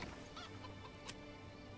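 Faint, distant hen clucking from a chicken coop in the medieval city-building game Manor Lords, scattered soft clucks over a steady low ambient hum.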